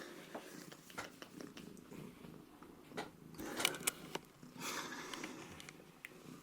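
Onions, a pet cat, purrs close up in a low rumbling rhythm, broken by sniffs and soft rustling touches that rise in the middle, with no talking.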